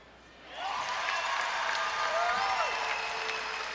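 A basketball arena crowd bursts into loud, sustained applause and cheering after a free throw at an NBL Canada Finals game, rising suddenly and holding steady with scattered whistles.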